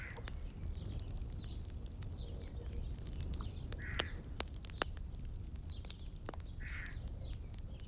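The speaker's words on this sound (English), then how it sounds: "Do you hear that crow or raven?" A crow or raven caws in a pine forest, a few distant calls spread over a steady low background with scattered faint clicks.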